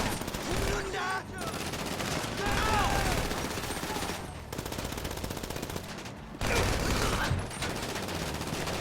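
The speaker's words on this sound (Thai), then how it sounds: "ยิงมันทั้งหมด" Rapid automatic gunfire in a GTA V bank heist shootout, bursts of loud shots separated by brief pauses, with voices talking over the fighting.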